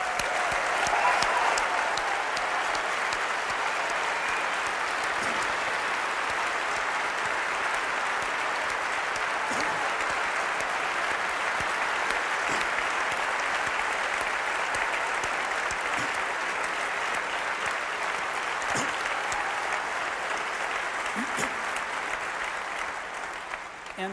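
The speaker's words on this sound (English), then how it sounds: "I want to give them a round of applause." An audience at the Macworld San Francisco 2003 keynote gives a round of applause for staff groups. The clapping is dense and loud, and it holds steady for the whole stretch before easing slightly at the end.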